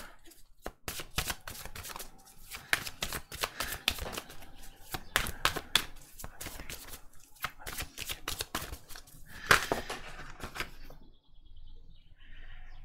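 Oracle cards shuffled and drawn by hand for a tarot-style reading, a dense run of quick papery riffles and flicks up close, easing off into near silence at the end.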